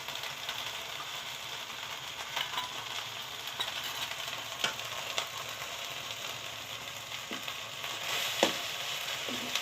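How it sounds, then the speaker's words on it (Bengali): Sugarcane jaggery is stirred into a pot of Kanika Mahaprasad sweet rice, giving a steady faint sizzle broken by scattered clicks and scrapes of the spoon against the pan. "মিশিয়ে দিচ্ছি ভালো করে।"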